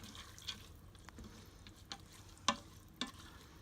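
Toor dal lentils being stirred in an Instant Pot on saute mode, with soft scraping and a few sharper spoon knocks against the pot over a low sizzling bed, close and fairly quiet.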